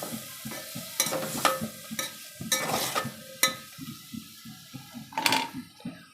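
Tomato and onion are stirred into vaghareli masala khichdi in a pan, a spoon scraping and clacking in repeated strokes with a soft sizzle underneath, close and fairly loud, no talk.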